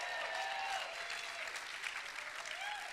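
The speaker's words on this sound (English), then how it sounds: "give him a big round of applause" Conference audience applauds steadily, a dense, even wash of many hands clapping that holds for the whole stretch at a fairly distant, moderate level.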